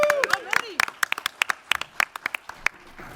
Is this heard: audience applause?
yes